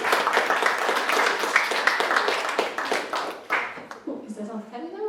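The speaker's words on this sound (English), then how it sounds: "Can we have a huge round of applause for Kirsty and Amrit?" An audience at a salon event claps in a sustained round that fades out, followed by a person starting to speak as the applause dies away.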